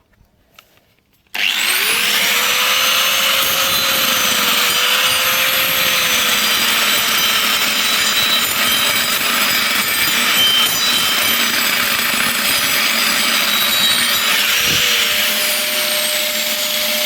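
A rasp disc on a power grinder shaves wood on a wedding wishing well, starting abruptly and running loud and continuous with a harsh, gritty scraping roar and a faint high motor whine.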